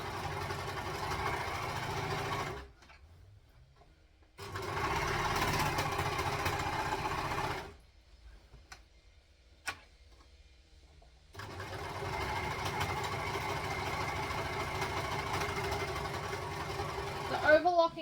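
Overlocker sewing machine serging the edges of dress straps, three steady whirring bursts of stitching with short quiet gaps between, close and fairly loud, with a voice speaking at times.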